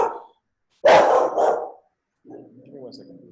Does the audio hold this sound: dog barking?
yes